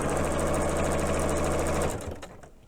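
A Janome sewing machine running a blind hem stitch with its blind hem foot, a loud, fast, steady mechanical whirr with rapid needle ticking that slows and stops near the end.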